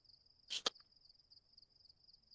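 Crickets chirp at night in the Mojave Desert, a steady thin high trill running faintly throughout, broken once by a brief louder rustling burst, with no voices.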